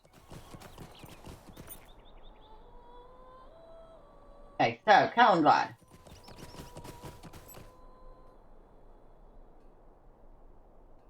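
Someone talks quietly over a soft ambient hum, then a brief burst of horse whinnying and hoof clatter rings out in Lord of the Rings Online before the talk resumes.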